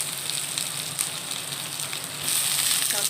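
Ivy gourd sizzling and crackling in hot oil in a pan, a steady close frying hiss that grows louder and brighter near the end, with no talk over it.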